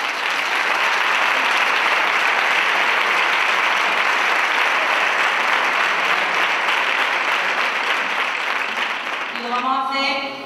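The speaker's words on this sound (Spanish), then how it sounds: "Y antes que nada, pues pedir un aplauso a nuestro guitarrista Manuel de la Luz." An audience at a flamenco event for International Flamenco Day in Calañas breaks into sustained, loud applause for a guitarist. Dense clapping continues without pause for about ten seconds, with a voice coming in briefly just as the clapping fades at the end.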